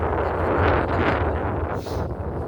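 Strong wind buffets the microphone in a loud, continuous rumbling roar with gusty surges, no voices heard.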